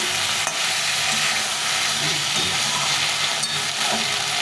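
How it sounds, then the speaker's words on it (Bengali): Spice paste (masala) for a rohu fish curry with cauliflower and potato fries in a pan while being stirred, giving a steady close sizzle with scraping stirs throughout and no talking. "মশলাটাকে ভালো করে কষিয়ে নিয়েছি।"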